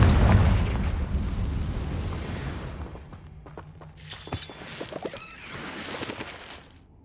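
A Confringo spell explosion in Hogwarts Legacy: a loud blast that fades out over a couple of seconds, followed by shattering, crackling debris and a few bright bursts.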